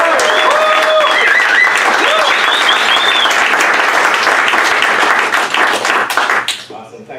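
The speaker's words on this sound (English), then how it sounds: "So without further ado, big round of applause for Venkat!" Loud, dense applause from a crowd at a startup founder pitch event, close and continuous with some voices mixed in, before it tapers off sharply near the end.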